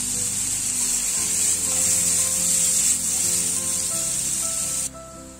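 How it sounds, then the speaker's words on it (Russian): Carrots and onions fry in vegetable oil in a pan, a steady broad hiss and sizzle running close and loud for several seconds before it drops off near the end, with faint low kitchen hum beneath. "Морковку и лук обжариваем на растительном масле до мягкости."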